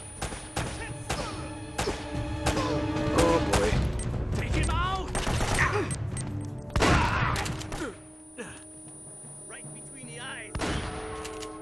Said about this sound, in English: Alright, so I got a big old grenade launcher here.